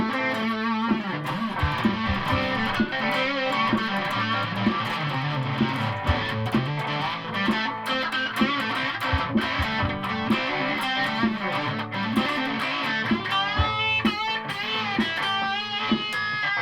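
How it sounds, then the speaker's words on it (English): An electric guitar through a distortion pedal plays continuously, thick and crunchy with sustained chords and riffs, loud and steady throughout with no voices. "So I go for a bit of distortion."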